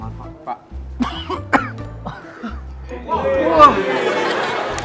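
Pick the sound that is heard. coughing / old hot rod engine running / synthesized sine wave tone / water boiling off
coughing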